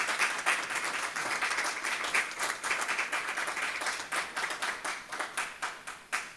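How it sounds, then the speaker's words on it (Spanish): Applause from an audience at a book presentation honoring a Jesuit priest at a university center in Torreón, a steady clatter of many hands that thins into scattered, distinct claps toward the end. "Démosle un fuerte aplauso al Padre Mario López Barrio."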